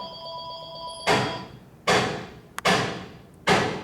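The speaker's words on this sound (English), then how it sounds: "I'm a little busy to answer the phone though" A telephone rings in a workshop during a motorcycle repair, an electronic warble at the start, then several loud, sharp metallic clanks follow at irregular intervals, close and alone.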